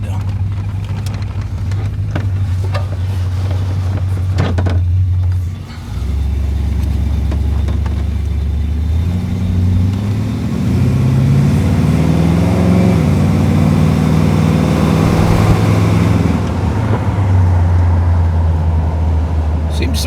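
A 1972 Chevrolet Corvette Stingray V8 rumbles loudly from inside the car as it is driven, a deep, steady drone that swells with throttle. Muffled voices come and go over it.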